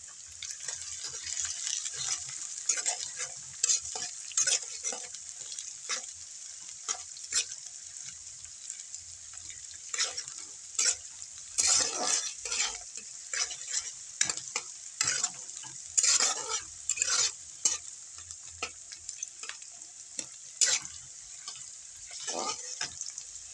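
Chopped green chilli frying with okra in a pan, a steady sizzle running throughout with repeated stirring scrapes and clinks over it.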